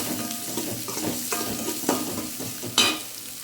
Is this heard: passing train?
no